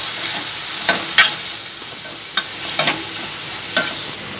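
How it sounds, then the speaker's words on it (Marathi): Softened onion and tomato fry together in a pan for dhaba-style paneer bhurji: a soft steady sizzle punctuated by about six sharp clacks of the spoon striking the pan at uneven intervals. "आता टोमॅटो आणि कांदा एकजीव होईपर्यंत आपल्याला शिजवून घ्यायचं आहे"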